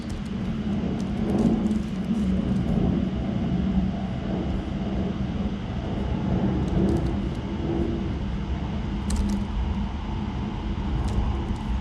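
An airplane passes overhead outdoors, heard as a continuous, even drone with no talking.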